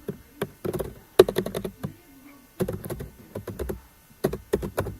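Computer keyboard typing in quick bursts of crisp clicks separated by short pauses, close and fairly quiet, with no talking.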